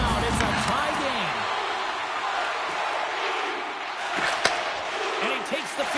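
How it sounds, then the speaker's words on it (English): Arena crowd noise in an ice hockey video game forms a broad, steady roar throughout, loud and close, with a few thuds and sharp impacts, while voices talk over it. "You can feel the energy in this crowd."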